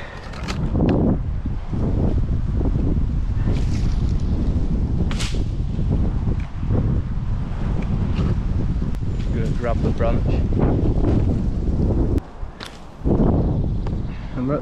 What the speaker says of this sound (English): Wind's getting a bit cheeky now.